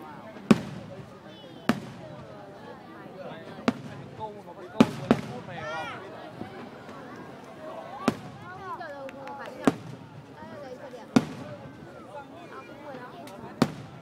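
New Year's Eve fireworks for the lunar new year of 2015 burst at irregular intervals, sharp distant-to-moderate bangs and pops over a continuous crackling, whistling background, with people talking throughout.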